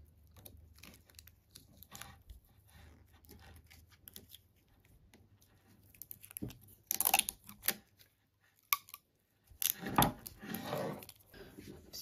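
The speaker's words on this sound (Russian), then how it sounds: "берем скотч и приматываем" Adhesive tape is pulled from the roll and wrapped around the presser bar of a knitting machine, with sharp bursts of ripping and crinkling in the second half, between stretches of quiet handling noise and a woman's speech.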